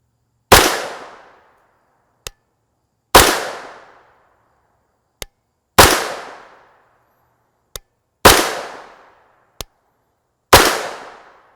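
Five loud, sharp gunshots from a short-barreled CZ Scorpion Evo 3 S1 9mm carbine with a factory stock, spaced a few seconds apart, each with a long ringing decay, plus faint clicks between shots.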